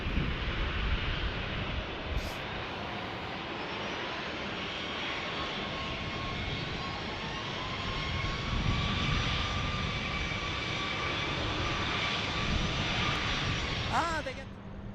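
An airplane passes at San Diego International Airport with a loud, sustained roar from its engines, joined by a rising and falling whine. People talk over it, and wind buffets the microphone.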